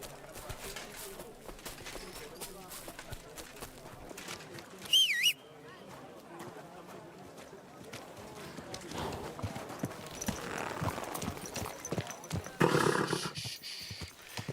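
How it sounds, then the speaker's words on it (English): Horse hooves clip-clop at a walk in the medieval game Kingdom Come Deliverance 2, with a short whinny, amid ambient birds and background chatter; the steps stay moderate and steady throughout. "Easy, good horse."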